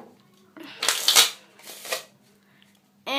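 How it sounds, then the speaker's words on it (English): Close-up riffle shuffle of playing cards: two quick papery bursts of flapping cards, the first longer, then quiet before a brief voice starts. "give these a quick riffle shuffle"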